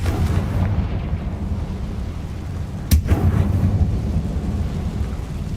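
A Confringo explosion spell in Hogwarts Legacy lands as one sharp, loud blast partway through, set against a steady low rumbling background.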